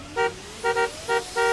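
A car horn honks four times in quick, uneven bursts, loud and close, over a low engine hum.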